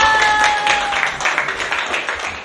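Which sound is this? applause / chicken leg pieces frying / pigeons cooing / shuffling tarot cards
applause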